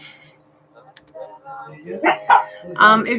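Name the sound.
dogs barking in the house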